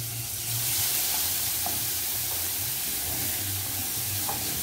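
Two large garlic cloves frying in a pan give a steady, close sizzle with a broad hiss that holds evenly throughout, touched by faint stirring clicks.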